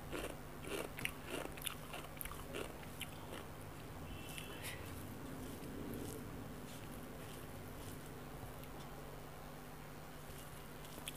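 Eating a meal of bitter gourd and potato mash with rice, close, faint wet chewing and soft crunching bites in quick irregular bursts early on, then quieter mouth sounds, with no talk.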